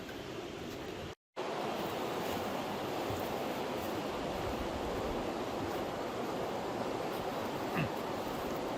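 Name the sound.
flowing water of the East Fork Lewis River outdoors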